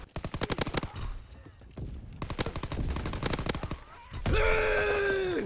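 M1 Garand rifle fire in the shooter Call of Duty WW2, heard as loud, sharp bursts of rapid shots in several volleys with brief pauses between them, ending in a sustained blast of noise.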